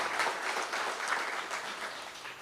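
An audience applauds a political candidate, the introduced next Member of Parliament for Oropouche East, in steady, dense clapping from a crowd at a live event, continuous throughout and without a break.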